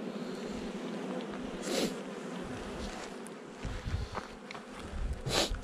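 A swarm of honeybees drones in a steady, dense buzz close by, with a few louder passes as individual bees fly near, no voices.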